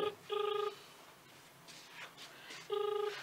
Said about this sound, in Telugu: అందశ్రీ సార్ ఫోన్ చేస్తున్నాడు